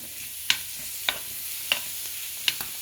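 Carrots and corn for fried rice are stirred in a frying pan with butter, a faint steady sizzle broken by four sharp spatula scrapes spaced about half a second apart.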